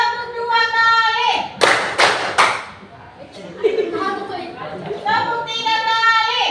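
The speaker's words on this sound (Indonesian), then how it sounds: "Tepuk 2 kali." A classroom of children claps in unison during a clapping game: three sharp, loud claps in quick even succession, framed by the children chanting together before and after.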